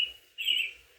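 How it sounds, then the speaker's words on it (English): A bird chirps twice in quick succession, a thin high call that is clear and fairly close, with nothing else behind it. "Birds chirp,"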